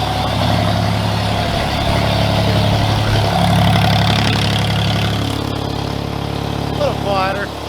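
A 1972 Ford 4000 tractor engine runs close by with a loud, steady mid-pitched chugging idle that eases slightly near the end, while a voice speaks briefly over it.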